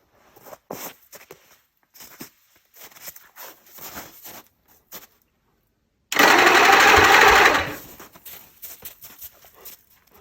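A small gasoline pony motor on a diesel machine cranks and catches, a loud burst of engine noise lasting under two seconds, set between stretches of quiet clicking, clanking and scattered handling sounds.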